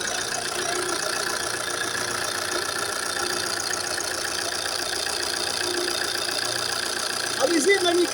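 An Opel Insignia CDTI diesel engine that had a loss-of-power fault idles in a steady, even drone that stays constant throughout, heard from nearby, with a brief voice near the end.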